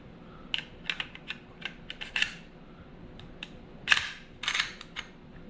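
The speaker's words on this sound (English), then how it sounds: "Slide it back on, lock it back," The slide of an IWI Masada 9mm pistol is slid back onto the frame and locked, a series of close, sharp metallic clicks and scrapes spread irregularly, with a louder snap near the end.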